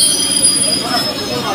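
A departing passenger train on a journey to Tarapith rolls along the rails, producing a steady loud rumble with high-pitched wheel squeal running through it, and voices are faintly audible beneath the noise.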